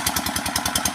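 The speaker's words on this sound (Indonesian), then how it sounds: "suara mesin dieselnya cukup kencang" A loud diesel engine drives a watering pump at an oil palm seedling nursery in Simalungun, chugging in a fast, steady pulsing rhythm close by with no talk over it.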